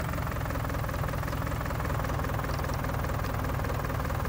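A tractor engine in Farming Simulator 2019 runs at a steady, low idle. It gives a continuous rumbling drone with a faint knocking texture throughout and no voices.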